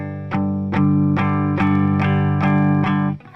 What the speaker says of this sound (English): Now the distortion goes on at that point and you swap over to the bridge pickup.